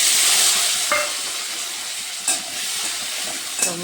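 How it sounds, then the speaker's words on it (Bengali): Chopped tomatoes hit hot oil with fried cumin seeds and sizzle loudly in a pan, with three sharp stirring scrapes spaced through the steady hiss. "এখন দিয়ে দেব আমি যে টমেটো কেটে রেখেছিলাম ওই টমেটোগুলো দিয়ে দেব।"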